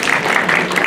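A conference audience at an education event claps steadily, a dense, loud wash of applause with no break.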